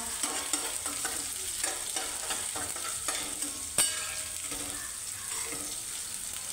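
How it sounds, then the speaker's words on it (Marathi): Onion sautéing in a pan in a home kitchen, a steady soft sizzle and hiss with light stirring scrapes and one brief sharp clink, close and continuous without speech. "कांदा चांगला भाजून घ्यायचा"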